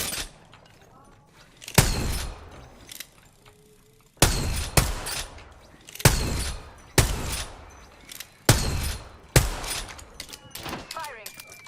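Sharp gunshots from the video game Apex Legends crack out in separate loud bursts about every second or two, near and punchy, with quieter gaps and voices talking in between.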